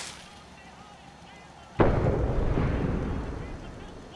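Fireworks launching in Fallout 4 from a raider-style gun tower, starting with a quiet stretch and then one sudden loud boom trailing into a long rumbling, crackling decay.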